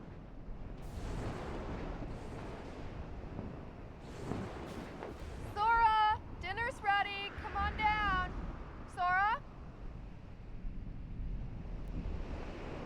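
A sea storm wrecks a raft in Kingdom Hearts Final Mix: steady roaring surf and wind rumble throughout, with short voiced cries and exclamations rising above the storm in the middle.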